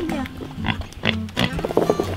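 Farm pigs grunt and snort close by in short, uneven bursts, with some people talking over them.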